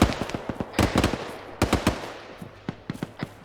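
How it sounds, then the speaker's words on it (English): Rapid bursts of automatic gunfire in the ArmA 3 military video game, sharp cracks in quick clusters with short pauses between volleys, fairly close and loud. "Shots going out."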